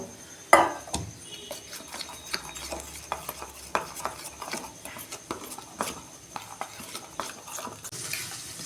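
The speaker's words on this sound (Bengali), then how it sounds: "অল্প জল দিয়ে আমি গুলে নেব।" A spoon stirs chili and cumin powder with a little water in a bowl, producing a series of light, irregular scraping clinks after one sharper knock near the start.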